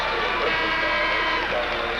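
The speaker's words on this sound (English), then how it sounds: "We have a whistle. There's a timeout on the court." A referee's whistle sounds at a 1984 Illinois high school boys basketball championship game, a brief shrill tone over the roar of a large gym crowd.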